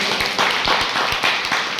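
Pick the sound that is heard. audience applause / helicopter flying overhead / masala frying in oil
audience applause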